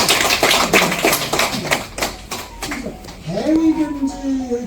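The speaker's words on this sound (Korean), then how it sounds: "박수 한번 치셔야 돼요." Scattered clapping from a small audience at a victims' committee meeting on compensation law, a few seconds of uneven taps that fade as a voice rises over them.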